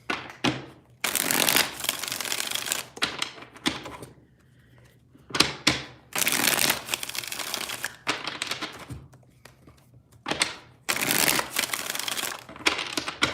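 Tarot cards being shuffled in a run of brisk, papery riffles and rustling bursts with short pauses between them, close up and with no talking.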